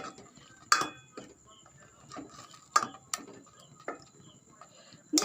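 Rice flour paste is mixed into jackfruit payasam with a spoon, which clinks and scrapes against a metal pot in irregular, close, sharp knocks separated by brief pauses.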